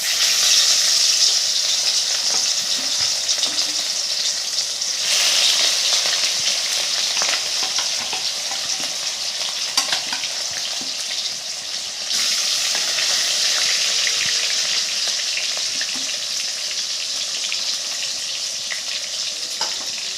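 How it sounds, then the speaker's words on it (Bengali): Rohu fish pieces fry in hot oil with a steady, loud, close sizzle that runs for the whole stretch, its texture shifting slightly as the pieces settle, with no voices over it. "রুই মাছগুলোকে ভালো করে ভেজে নেব।"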